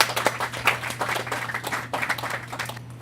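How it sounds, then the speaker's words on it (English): A festival crowd applauds a short film at the 2014 Nashville Film Festival awards, steady dense clapping filling the room at moderate distance, fading slightly near the end, with a low electrical hum underneath. "extra actual round of applause for that one"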